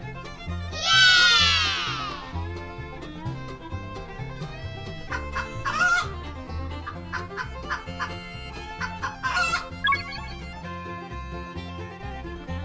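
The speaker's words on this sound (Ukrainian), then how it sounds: "курка." A farm chicken clucks in a quick series of sharp clucks and squawks, loud and close, over a steady background of music.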